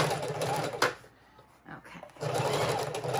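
A sewing machine zigzag-stitches a fabric junk journal cover, running in a steady, close, fast whir that breaks off briefly midway and then resumes.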